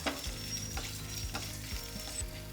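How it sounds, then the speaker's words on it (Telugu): Cumin and coriander seeds roast in a pan with a close, steady sizzle and repeated scraping strokes as they are stirred, with light crackles mixed in. "ఒక స్పూన్ ధనియాలు వేసి కాస్త వేగనివ్వాలి"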